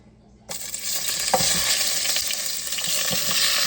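Onions hit hot cooking oil for an Ilocano pakbet and burst into a loud, continuous sizzle after a brief quiet start, with a few faint clinks from the pan.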